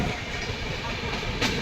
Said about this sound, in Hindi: वंदे भारत एक्सप्रेस आ रही है